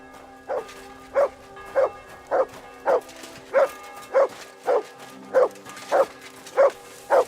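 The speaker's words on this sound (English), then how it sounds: "Good dog, Mutt." A dog in the video game Kingdom Come Deliverance 2 barks in a steady series of about a dozen evenly spaced woofs, close and clear over a quiet game background, with no talking.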